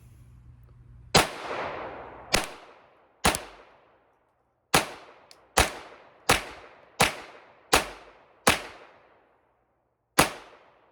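Nine sharp gunshots from a Smith & Wesson Model 422 pistol, fired as separate single shots at uneven intervals, each a loud crack with a short ringing decay, with no talking.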